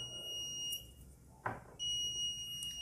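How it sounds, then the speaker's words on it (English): A small buzzer on an Arduino-controlled UPS circuit beeps with steady, high-pitched tones that stop briefly in the middle and then resume, fairly faint and close, with no talking. "so now the buzzer is beeping"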